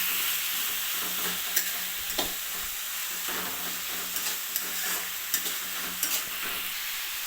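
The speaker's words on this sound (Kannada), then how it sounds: "ಚೆನ್ನಾಗಿ ಮಿಕ್ಸ್ ಮಾಡ್ಕೊತಾ ಇದ್ದೀನಿ." A radish stir-fry (palya) with coriander and grated coconut is stirred in a pan over a soft continuous sizzle, with occasional clinks of the spatula against the pan.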